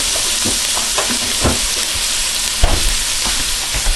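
Garlic sizzles loudly in a pan over lowered heat, a continuous frying hiss broken by scattered soft clicks and scrapes from stirring.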